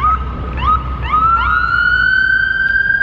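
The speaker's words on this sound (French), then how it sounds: "on adore les sirènes" A police siren on a Los Angeles street wails loudly and close by, its pitch sweeping upward in repeated rising glides before settling into a sustained high tone, with no talk over it.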